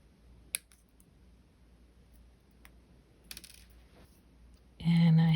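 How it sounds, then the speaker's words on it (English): Wire cutters snip the wire ends of a bead ring at an angle, giving a few sharp, quiet clicks spaced apart in a hushed room, followed by a louder thud near the end. "Now we can come through, and I snip them at an angle."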